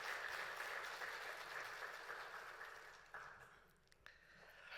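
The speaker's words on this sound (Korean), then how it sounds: "하나님께 감사와 영광의 박수를 올려드리도록 하겠습니다" A church congregation applauds during a Wednesday worship service, a steady wash of many hands clapping at a modest distance, thinning out toward the end.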